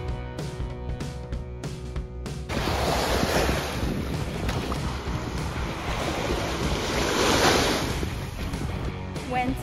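Wind and surf on a sandy Lake Ontario shoreline at Sandbanks Beach, a steady loud rushing wash with microphone wind buffeting that swells after the first couple of seconds and holds without pause.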